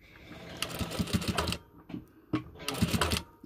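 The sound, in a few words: sewing with a sewing machine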